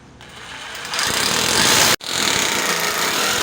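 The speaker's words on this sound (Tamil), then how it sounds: "மார்க் பண்ண இடத்துல ட்ரில்லிங் மிஷின் வச்சுக்கோங்க" An electric drill boring holes into a wall to mount a water heater: a loud, close, buzzing motor whine that ramps up, cuts out for an instant, then runs hard again.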